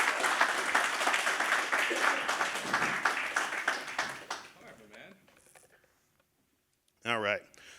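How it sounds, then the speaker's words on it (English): A conference audience gives a round of applause for a presenter, loud and dense at first, then fading out over a few seconds into near silence before a voice speaks. "Everybody give a round of applause for Shiv."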